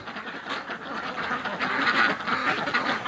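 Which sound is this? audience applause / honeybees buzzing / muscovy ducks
muscovy ducks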